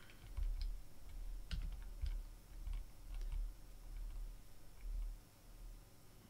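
Keyboard shortcuts being tapped while drawing in SketchUp, scattered soft key clicks in irregular bursts over a low background rumble, quiet and close.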